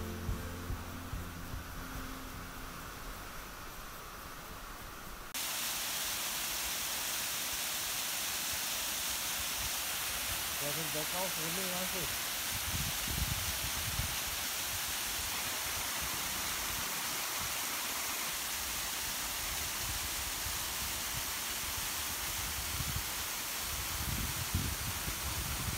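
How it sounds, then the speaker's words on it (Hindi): A waterfall beside the Killar to Kishtwar cliff road in Pangi, heard as a constant broad rushing roar of falling water, steady and fairly distant, with a brief faint tonal sound partway through and no talking. "ऐसे स्लो मोशन वाटरफॉल विरले ही देखने को मिलते हैं"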